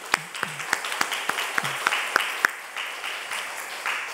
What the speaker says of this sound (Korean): 우리 한번 박수 한번 쳐주세요.